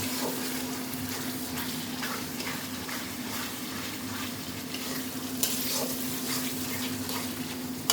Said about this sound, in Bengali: মশলা কষাচ্ছি, মশলা কষে গেলে খাসি মাংস দেওয়া হবে ইনশাআল্লাহ।